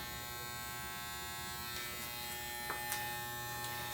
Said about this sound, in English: start in the bottom of the nape line with your clipper over comb